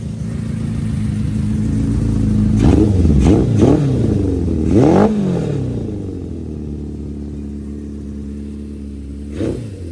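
A Honda CB550 motorcycle fitted with Murray's carburetors revs up from idle in several quick throttle blips, then drops back to a steady, loud, close idle with one last short blip at the end.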